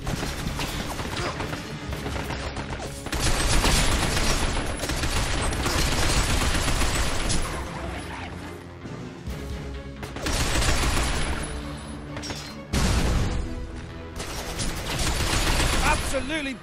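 Machine gun fire in the video game Binary Domain comes in loud sustained bursts separated by brief pauses, with voices talking over the shooting.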